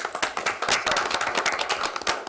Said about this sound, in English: That is worth a round of applause right there